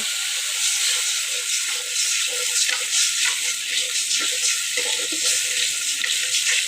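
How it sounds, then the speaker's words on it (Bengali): Spices frying in a pan with turmeric and salt added, a steady close sizzle with soft stirring scrapes and clinks throughout, no voices. "এই মশলার সাথে আবার হলুদ লবণ একসাথে দিয়ে দিতেছি মশলা কষানোর জন্য"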